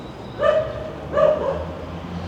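Stray dogs bark in a city street in Moldova, two distinct barks about a second apart, fairly close and loud over a steady low background.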